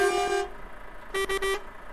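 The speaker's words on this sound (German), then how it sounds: "Hupen sind am Start." Horn of a Volvo F Series Globetrotter truck in Euro Truck Simulator 2, one long blast followed by three short rapid toots, clear and alone.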